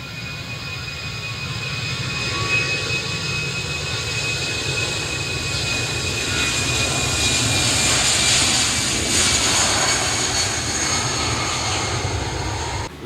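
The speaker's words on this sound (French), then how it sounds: "Ça fait énormément de bruit, un 318." An Airbus A318 jet with CFM engines roars loudly and steadily, a dense broadband rumble with high whining tones that swells a little toward the middle and holds throughout.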